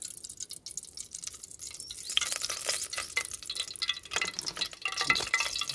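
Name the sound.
oil added to a heated pot for village chicken curry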